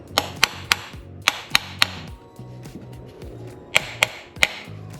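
Sharp metallic hammer strikes on a 1999 Yamaha Waverunner jet ski, about eight blows in two uneven bursts, ringing out close and loud over a low rumbling background.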